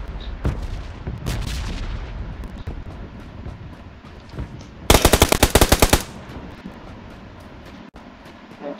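Gunfire crackles in the video game PUBG Lite: scattered distant shots, then a sharp, loud rapid-fire burst of about a dozen rounds, followed by quieter background game noise.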